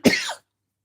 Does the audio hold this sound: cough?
yes